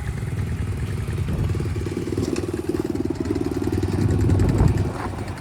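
A motorcycle engine idles on its kickstand while it warms up, a low steady chugging with a faint mechanical clatter that swells slightly toward the end. It is close and heard alone, with no talk.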